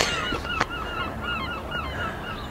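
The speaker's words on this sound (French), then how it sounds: "Je pensais pas que les goélands venaient jusque là." Seagulls calling repeatedly outdoors, a chatter of short honking, squawking cries overlapping at a moderate distance over a steady background, with no talking.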